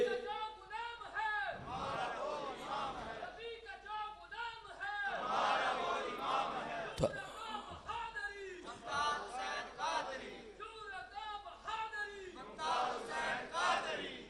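A large crowd at a religious lecture gathering chants a slogan in loud, rhythmic unison. Many voices swell and fall in repeated waves over a steady hall ambience, continuing for many seconds.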